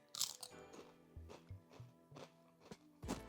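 Crisp, brittle crunching from bites and chewing of crispy salted egg salmon skin chips, several sharp crackly bursts close up with short pauses between.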